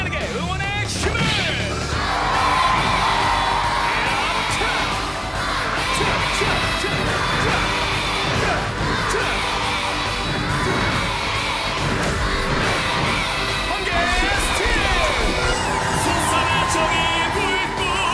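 Children's crowd cheering and shouting for the superhero Lightning Man (번개맨) at a live kids' show, a loud continuous roar of young voices with occasional whacks and crashes mixed in.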